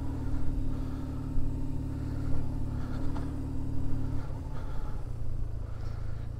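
A BMW R1150GS motorcycle on a test ride runs with a steady low engine drone and some wind rumble, holding a fairly even level throughout with no voices.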